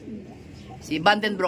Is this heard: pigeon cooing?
yes